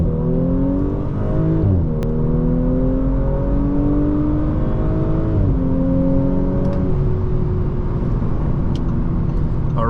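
A 2020 Audi S4 3.0T Prestige launches hard from a standstill, its engine climbing through the gears in rising sweeps with brief dips at each shift, loud and close from inside the cabin.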